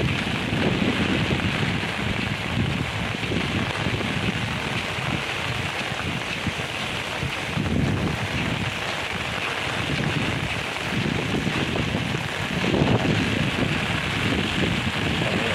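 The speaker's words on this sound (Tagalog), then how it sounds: "Hangin." Strong typhoon wind roars steadily and close outdoors, with gusty swells and a rain-like hiss throughout, and no voices.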